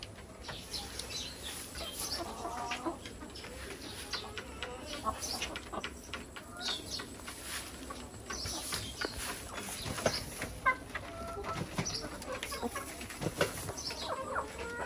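Native hill hens cluck and murmur inside a hen shed, with frequent overlapping clucks and soft calls over a quiet background, plus occasional sharper squawks and wing rustles.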